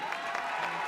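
Brief, steady applause and crowd noise fill the Royal Albert Hall as dancers are presented at a ballroom championship, a dense wash of clapping at moderate distance.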